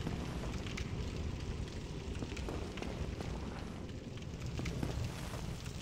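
A bonfire burns in the video game Dark Souls, a steady crackling, roaring fire noise that stays quiet and continuous throughout, with no voices.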